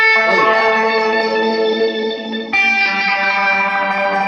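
A digital Meris effects pedal with filtering shapes an electric guitar into a lush, sustained, chorus-like tone with a bouncy analog feel, held steadily loud with one abrupt change in texture midway.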